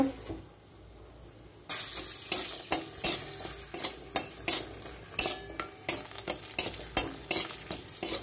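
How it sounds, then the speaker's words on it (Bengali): Homemade bori lentil dumplings frying in a pan: after a quiet start, a sudden burst of hissing oil with repeated rhythmic scraping and clinking stirs, close and fairly loud, no talking. "এবার আমি চাল কুমড়োর জন্য বড়ি ভেজে নেব"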